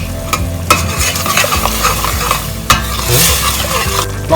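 Onions fry with curry powder in a pan, a loud, dense sizzle broken by scraping and stirring clatter from utensils against the pan, with occasional sharper knocks.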